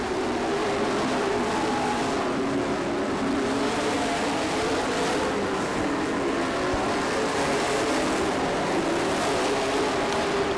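Race cars run the final lap at Plymouth track, a continuous dense engine roar that holds steady and loud throughout, with no clear pass-bys standing out.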